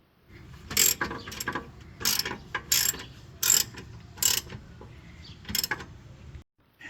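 A torque wrench clicks and ratchets while tightening the rear rotor bolts of a Nissan Sentra, with a series of about seven sharp ratcheting bursts at a steady, close pace.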